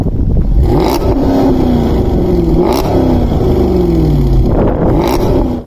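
A powerful Jaguar XKR engine revs hard through three loud rising-and-falling pulls, the roar sustained and close throughout before cutting off at the end.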